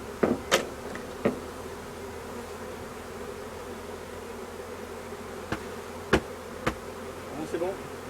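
Honeybees mill around a hive during a swarm, giving a faint, steady low hum with scattered sharp clicks and knocks from hive handling.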